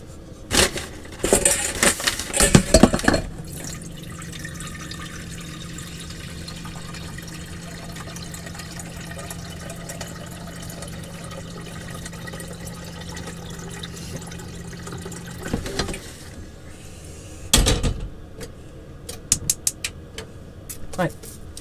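A large saucepan fills from a kitchen tap in a steady, even rush of water lasting about twelve seconds, with louder clattering of pans and utensils before and after.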